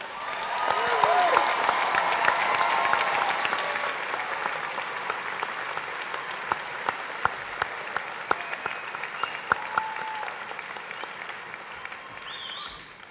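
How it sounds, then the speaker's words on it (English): Sustained clapping fills a university commencement hall in honor of the graduates, broad and continuous, swelling early then slowly thinning, with a voice briefly audible through it. "How about another big applause for all the graduates today?"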